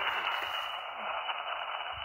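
A broadcast station received on the 160-metre band through an SDRplay software-defined radio, heard as a steady band of hiss-laden, muffled audio with interference, continuous and fairly loud with no clear speech.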